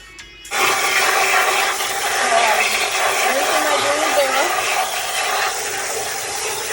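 Pot liquid with onions is poured into collard greens, making a loud, steady rushing and splashing of water that starts abruptly and runs for several seconds before easing slightly, with no talk over it.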